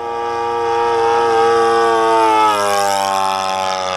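Nitro-powered P51 Mustang RC plane engine, a loud, sustained high-pitched whine with strong steady harmonics that shifts in pitch as the plane passes, filling the whole stretch without talk.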